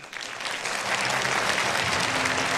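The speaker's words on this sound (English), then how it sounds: "another big round of applause" Sustained audience applause in a hall at an international peace leaders' conference, dense and steady from start to finish with no talk over it.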